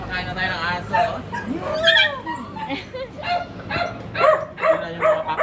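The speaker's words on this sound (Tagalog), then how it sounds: "Ayan guys, magpapakain na tayo ng aso." Several dogs in a rural yard bark, yip and whimper eagerly before feeding time. High whines and yelps come in repeated bursts throughout, close by and fairly loud.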